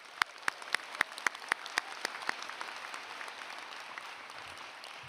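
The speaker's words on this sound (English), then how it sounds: "Let's give our graduates a round of applause." A round of applause for graduates at a medical school convocation ceremony, beginning with a few sharp, separate claps and then settling into a steady, moderately distant patter from the audience.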